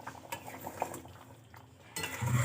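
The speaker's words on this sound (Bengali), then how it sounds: "একটু মিশিয়ে নেব মশলাটা" A spoon stirs dhaba-style Bengali egg masala in a pan, with soft intermittent clinks and scrapes of metal on metal, quiet and close, ending in a louder low rumble.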